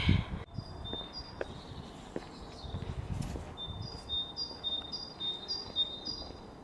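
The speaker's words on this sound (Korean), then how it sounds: "새소리 진짜 예쁘죠?" Birds chirp and sing repeatedly in short high phrases against quiet weekend-morning outdoor ambience in Frankfurt, fairly close and moderately loud, with no talking.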